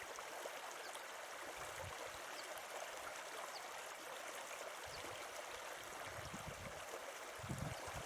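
Water flows along the Mine Leat, a channel on Dartmoor that carries water from the River Tavy toward an old mine. It is a faint, steady rushing hiss with nothing else heard.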